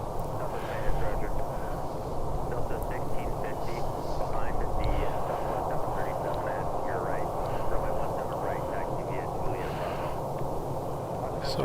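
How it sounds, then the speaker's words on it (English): A United airliner taxis at Reno airport at sunrise, a distant, steady jet rumble heard beneath someone talking continuously. "So we've got a United taxiing."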